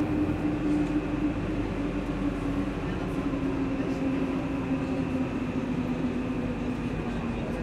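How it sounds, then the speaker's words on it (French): Lausanne M2 metro train running with a steady, loud rumble and a sustained hum throughout, a continuous rail ride with no pauses. "J'ai nommé le métro."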